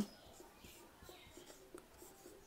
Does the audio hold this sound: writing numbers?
yes